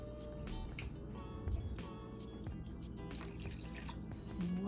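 Water trickles and drips into a bowl while fish is washed for Jamaican steamed fish, with faint splashes and kitchen clatter in a quiet room.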